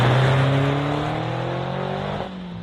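A Suzuki Jimny 4x4's engine drones loud and close, its pitch drifting slowly upward, then dropping away abruptly near the end; no one speaks.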